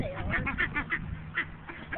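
Ducks being fed give a rapid run of nasal honks and quacks, several birds calling in close, repeated bursts at moderate volume.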